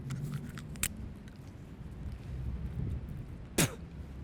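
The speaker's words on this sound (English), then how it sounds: "I'm going to bite the cartridge open." Teeth tear into a paper musket cartridge while loading a flintlock: two sharp, close ripping crunches about three seconds apart against quiet outdoor background, with no talking.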